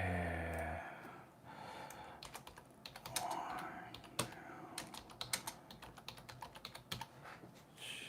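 Typing on a computer keyboard, a quick irregular run of close clicky keystrokes that follows a short hum at the start, with faint breathing in the background.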